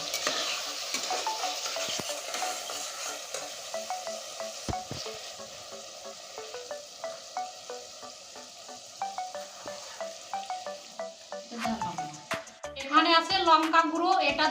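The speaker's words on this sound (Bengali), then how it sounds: "এবার মশলাটা আরও সুন্দর করে ফুটতে থাকবে" Spice paste for chicken curry sizzles in a pan with hot water added, a spoon scraping and stirring it in steady close strokes, growing louder and busier toward the end.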